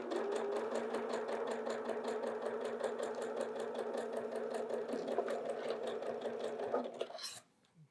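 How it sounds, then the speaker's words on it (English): Sewing machine stitching two quilt squares together, running in a fast, even, close-up rhythmic whir for about seven seconds before stopping abruptly. "Just sewing two squares together."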